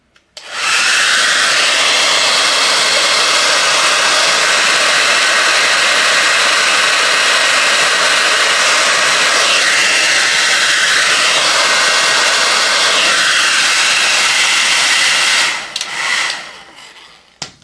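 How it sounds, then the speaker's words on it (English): A hair dryer blows steadily at full loud roar for about fifteen seconds, then cuts off with a brief sputter at the end. "And heat it with the big bulky hair dryer."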